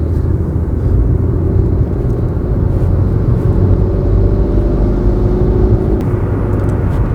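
A car on the Delhi Panipat expressway gives a loud, steady low rumble of road and engine noise from inside the cabin, with a faint whir and no voices.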